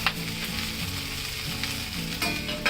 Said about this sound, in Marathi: मसाल्यामध्ये ना छान ही भाजी आधी 1 मिनिटभर तुम्ही छान परतून घ्या अशी.